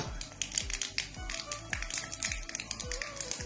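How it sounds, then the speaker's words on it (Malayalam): Mustard seeds crackle and pop in hot coconut oil in a heated wok for a colocasia thoran: rapid, irregular sharp snaps with soft thumps, close and steady, with no talking. "കടുക് പൊട്ടുമ്പോൾ"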